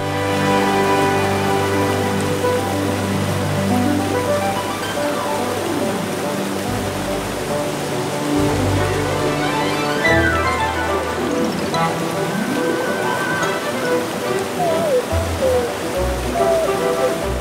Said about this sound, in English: the white foam of the waterfall covers much of the rock wall.